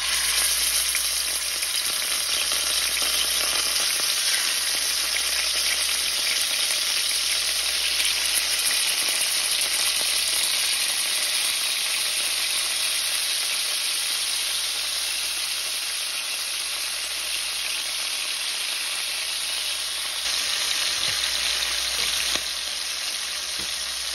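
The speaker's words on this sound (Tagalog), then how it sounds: "Iprito lang natin ng bahagya yung chicken natin" Chicken wings fry in oil in a pan for adobo wings, giving a dense, constant sizzle and crackle up close that continues without talk.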